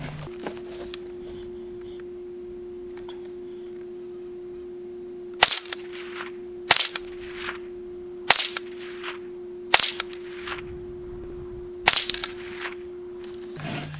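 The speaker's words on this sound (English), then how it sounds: "I'm going to shoot at that same bottom target, see what happens." A Henry AR-7 .22 survival rifle fires Federal ammunition in five sharp, fairly close cracks spaced a second or two apart, each trailing a short echo, over a steady faint electronic hum.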